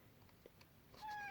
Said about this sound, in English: Can you hear the cat?